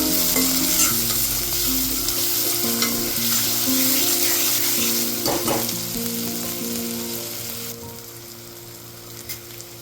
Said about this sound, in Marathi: यावर आता टोमॅटो घालून तोही छान परतून घ्या